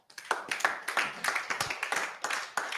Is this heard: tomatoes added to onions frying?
no